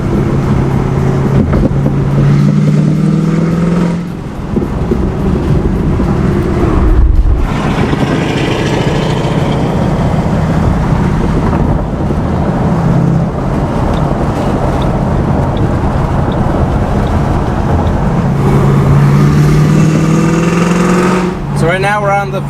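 Loud, steady exhaust drone from straight-piped cars cruising on a freeway toward a friend's Camaro, heard from inside a car, with the engine note swelling and easing at moments and constant road rumble underneath.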